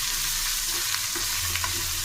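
Chopped carrots with salt and turmeric are stirred in a sizzling pan for carrot curry, a steady close frying hiss with faint scrapes of the spoon.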